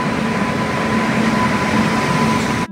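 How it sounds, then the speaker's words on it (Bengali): The Silchar Special fare special train rumbles steadily into platform 5, a continuous loud rolling drone with a thin tonal hum over it, ending abruptly. "বহু প্রতীক্ষার পরে অবশেষে আমাদের ট্রেনটি 5 নম্বর প্ল্যাটফর্মে ঢুকছে"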